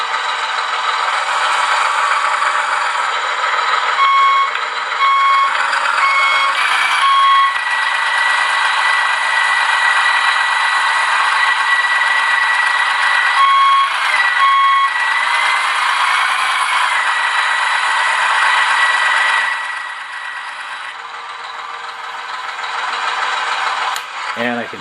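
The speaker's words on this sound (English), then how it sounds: "And I can shut off the engine sound." Simulated truck engine from a Beier SFR-1 sound module in a 1/14 Tamiya Grand Hauler RC truck, a steady loud electronic drone with rattly texture and shifting tones, running continuously and then easing slightly near the end.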